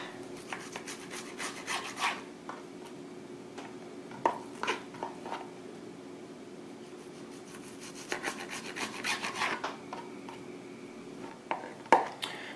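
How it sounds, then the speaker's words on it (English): A knife slices through grass-fed steak for beef jerky, giving soft repeated rubbing strokes against a cutting board with occasional light taps, steady and close without any talk. "as we finish up slicing up our beef here"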